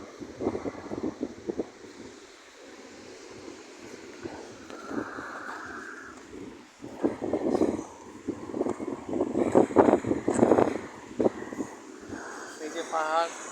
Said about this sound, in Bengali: এই সাগরের হাওয়া চলতেছে খুব